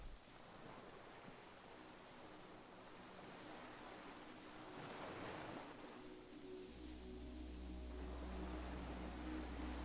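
A sudden gust of wind in the video game Disco Elysium: a broad, faint rushing hiss that swells and roars steadily, with a low rumble building toward the end.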